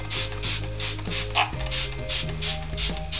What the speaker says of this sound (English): just spray that onto the face